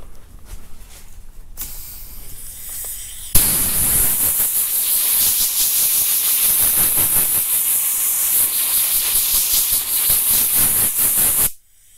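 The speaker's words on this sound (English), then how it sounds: "get you some compressed air and blow it off" Compressed air blows off clogged sandpaper used for flow-coating car clear coat: after a few seconds of quiet handling and a short fainter hiss, a loud, close, sharp air blast runs steadily for about eight seconds, then stops abruptly.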